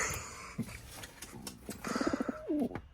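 Sick pigeon cooing nearby in several short throaty bursts, with scattered handling noise and rustling around it.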